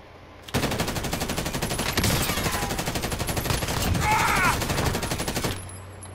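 Rapid automatic gunfire from a Call of Duty Warzone match, sustained bursts of loud, close shots crackling steadily for several seconds before cutting off abruptly.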